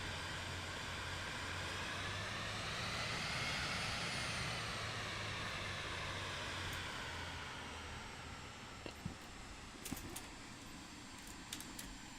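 A small jet's engine in Flight Simulator 2024 sends out a steady, faint broad roar with a low hum. The whine rises slightly, then settles, and a few light clicks come near the end.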